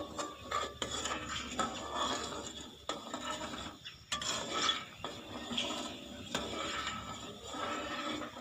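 A spoon stirs water chestnut (singhara) kheer in a pot, making continuous quiet scraping and rubbing against the metal with occasional soft knocks, close and steady.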